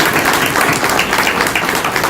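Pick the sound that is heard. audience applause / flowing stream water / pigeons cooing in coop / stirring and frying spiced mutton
audience applause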